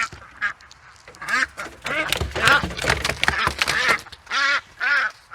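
A Cayuga duck quacks loudly and close by in repeated nasal bursts, mixed with other ducks and goose-like honks, while a person speaks over them.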